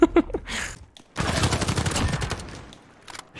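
Rapid bursts of automatic gunfire from a first-person shooter video game gun with heavy recoil, a brief shot or two up front, then a sustained loud stream of shots that tails off, with no talking.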